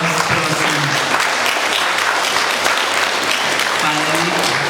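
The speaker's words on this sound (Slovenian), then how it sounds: "En aplavz, prosim." Audience applause for a school teacher at a Mother's Day event, steady, full and fairly loud clapping throughout with faint voices mixed in.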